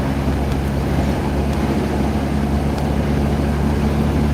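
A large-displacement car engine running steadily with a deep, continuous low rumble and no talking, close and loud throughout.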